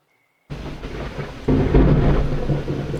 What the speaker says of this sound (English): There's a storm going on right now.